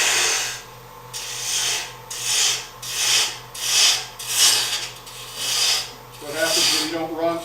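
A chisel cuts wood spinning on a lathe in repeated rasping passes, each stroke swelling and fading in a steady rhythm over a constant low motor hum, close and fairly loud.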